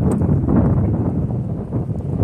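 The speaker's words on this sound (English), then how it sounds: "this is an unusually windy year" Strong wind blows steadily at an outdoor camp, buffeting the microphone with a loud, rough, continuous rumble and no voices.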